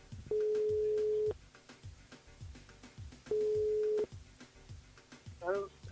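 Telephone line tones on a radio call-in, two long steady beeps a few seconds apart with a short warbling tone at the end, heard over a faint studio background.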